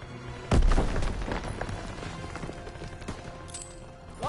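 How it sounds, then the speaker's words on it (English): A grenade goes off in Call of Duty WWII with one sudden loud boom, followed by scattered crackling gunfire and a few sharper shots as the battle goes on. "Throw the grenade!"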